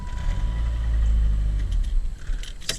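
A Saturn S-Series car engine is cranked by a new starter and fires up, a loud low rumble close by settling into an idle, with a few light metallic clinks near the end.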